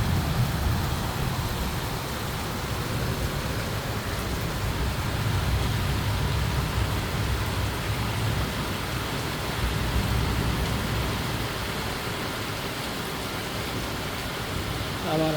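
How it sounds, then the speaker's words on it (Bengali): Heavy monsoon downpour in Dhaka after a scorching hot day, a dense, steady roar of rain filling the whole clip at constant loudness, with no distinct thunderclap standing out. "বজ্রপাত সহ বৃষ্টি।"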